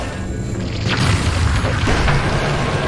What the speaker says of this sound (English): Radiant's top tower has fallen